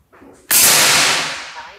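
A single sharp, loud crack from an SR Ironforce air rifle rings out nearby, then decays over about a second. Quiet speech can be heard just before it.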